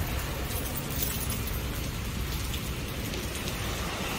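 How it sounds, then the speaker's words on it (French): Rain pours steadily onto a covered shelter, a loud, dense, continuous hiss and patter with no voices, filling the whole stretch evenly. "Il pleut, les amis. Il pleut."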